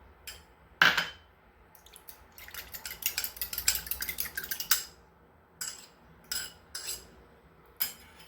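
Egg yolk being mixed with water in a bowl for quiche dough, with irregular clinks and scrapes of a utensil against the dish, some in quick bursts and others isolated, fairly close and quiet.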